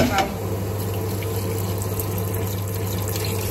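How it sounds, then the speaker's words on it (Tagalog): Filtered water pours steadily into a cooking pot for chicken-bone sopas, a continuous close splashing rush with a low steady hum beneath it. "Hindi ako nakapagpainit ng tubig. Kaya, ito na lang gamitin natin. Yung na-filter nating tubig."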